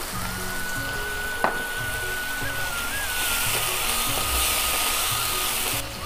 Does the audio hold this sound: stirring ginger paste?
yes